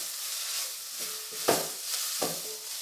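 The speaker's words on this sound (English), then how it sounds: "Saute it for at least 2 to 3 minutes on a medium flame" Tomato with turmeric powder sauteing in a pan over a medium flame, a soft sizzle broken by a few distinct spatula scrapes and taps, close and fairly quiet.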